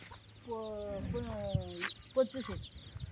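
Two brooding hens with their newly hatched chicks give a close, rhythmic series of throaty clucks, followed by a few shorter clucks and faint peeps.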